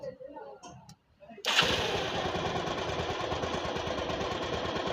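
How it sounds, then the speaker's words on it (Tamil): A Bajaj motorcycle engine fires up after someone speaks briefly, then settles into a close, loud, rapid chugging idle that runs steadily to the end. "வண்டியை ஸ்டார்ட் பண்ணுறேன்"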